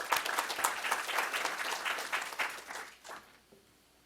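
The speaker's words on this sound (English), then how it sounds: "please help me and give me a round of applause for our facilitators here" A crowd applauding panel facilitators at a discussion event, with brisk clapping that holds for about three seconds and then quickly fades to near silence, fairly quiet overall.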